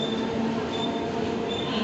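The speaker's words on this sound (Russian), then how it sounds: "Слава богу, это не наш поезд, это электричка." An electric commuter train rumbles past close by, its steady roar mixed with faint squealing tones from wheels on the rails.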